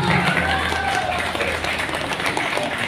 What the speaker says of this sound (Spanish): Venga las palmas.